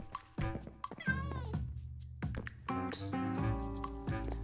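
Repeated cat meows from a Minecraft game, several rising and falling cries spaced across the moment, fairly clear and close with no talk over them.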